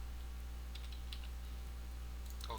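Faint, sparse keystrokes on a computer keyboard entering a locale setting in C code, a few scattered clicks over steady low hum, with a short quicker burst at the end.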